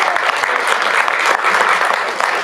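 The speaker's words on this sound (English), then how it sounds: "Please give them another round of applause." Loud, dense audience applause fills a hall during a Black History Month convocation and rededication ceremony, a steady wash of many hands clapping close by for the whole stretch.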